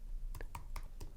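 Four distinct clicks of a computer keyboard being typed on, spaced unevenly across a brief moment, close and crisp over a faint low hum, with no talking.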